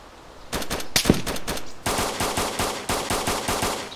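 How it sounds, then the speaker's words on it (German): Gunfire in the survival game DayZ, several irregular single shots followed by a steady, evenly spaced series of loud cracks, sounding fairly close and without talk. "die schießen da noch auf jemanden"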